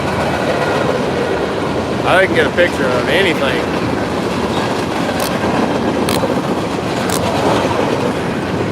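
A train rolling past steadily with a continuous rumble and clatter of wheels on rails, loud and close throughout while someone talks over it.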